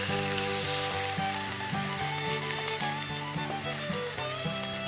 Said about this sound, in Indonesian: Panasin minyak sedikit. Kita grill tiap sisinya.